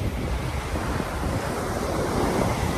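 Strong sea waves break on a shore in the Cayman Islands, a constant rushing roar of surf mixed with wind buffeting the microphone, and no voices.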